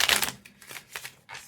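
Quick riffling and snapping of a Hanson-Roberts tarot card deck being shuffled, a few short papery bursts close up with brief pauses between them.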